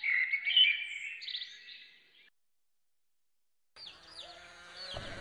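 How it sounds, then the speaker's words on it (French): Birds sing in the woods in a school play of Little Red Riding Hood, bright chirping and warbling phrases, then a pause of silence before more chirps return alongside a low thump at the end. "Ch'tio Capuchon Rouge remplissait ses oreilles des chants des oiseaux"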